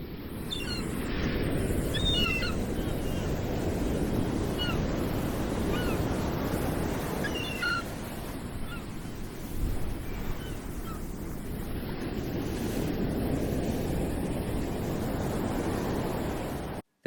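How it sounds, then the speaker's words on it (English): Ocean waves at Malibu beach roll in as a steady, broad surf roar with wind buffeting the microphone. Faint seagull cries come through above the wash now and then. "Now let's take a moment to listen to the ocean."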